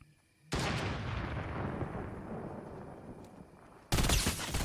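A sustained burst of automatic gunfire in the Fortnite battle royale game, loud and dense, with a brief fresh volley right at the end.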